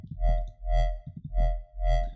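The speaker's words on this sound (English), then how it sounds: "having the filter one on oscillator one wobbling with this LFO, give it some more wobbly movement." A distorted wobbling synth bass made in Vital, its filter swept by an LFO and thickened with OTT compression and reverb, pulsing loudly in four slow even swells.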